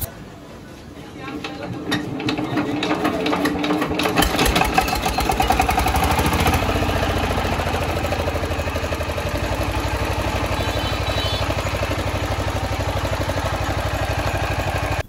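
A second-hand China 1110 model 20 HP water-cooled diesel engine cranks over with rapid knocking, then settles into a loud, steady, close clattering throb that runs on unchanged.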